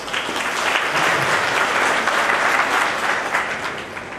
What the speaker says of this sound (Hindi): आप लोग अपने इस संस्थान के लिए, प्रतिष्ठान के लिए ताली बजाएं